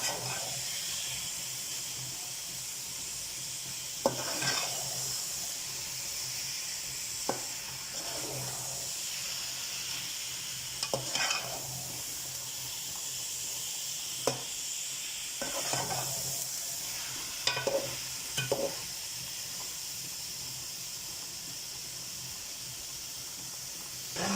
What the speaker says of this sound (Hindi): तो ये दोस्तों हम इसे अच्छी तरीके से भून लें।